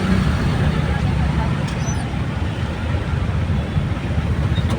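Steady road traffic noise from a busy street, a continuous broadband rumble with vehicle engines throughout, heard from inside or beside a moving vehicle.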